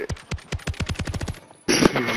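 A rapid-fire gun in a video game lets off a quick burst of about a dozen sharp, loud shots. The burst cuts to silence and then gives way to a noisy game scene.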